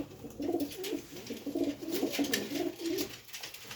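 Pigeons of a large, foot-tall breed with white eyes and pink eyelids coo in a steady series of soft, throaty low calls, close by, with a faint high hiss behind them and no talk.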